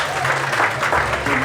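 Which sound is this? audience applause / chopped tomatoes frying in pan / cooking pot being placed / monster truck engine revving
audience applause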